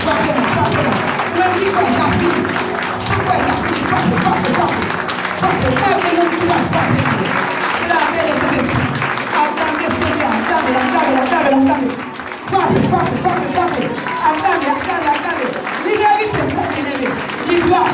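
A church congregation applauding during worship, a dense, continuous wash of clapping that holds steady for the whole stretch with a brief dip near the middle, mingled with crowd voices.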